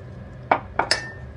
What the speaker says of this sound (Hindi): अब इस आटे को हम किसी बर्तन में पलट लेंगे।